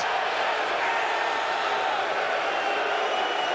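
A Mosconi Cup pool crowd roars in a dense, sustained wash of voices and cheering that fills the arena evenly without pause.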